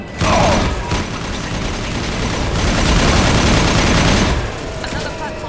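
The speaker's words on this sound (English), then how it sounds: "Taking heavy fire!" Dense, sustained gunfire during a Mass Effect Legendary Edition 2 firefight, loud overlapping rapid shots and mechanical clatter forming a continuous wall of noise for several seconds before easing off.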